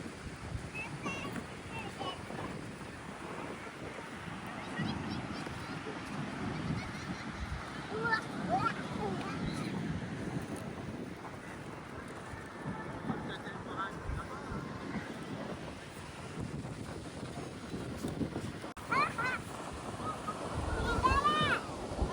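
Sea waves at Riva beach in Goa wash and break in a low, steady rumble through gusty wind, fairly quiet overall, with faint voices and a few thin chirps over it.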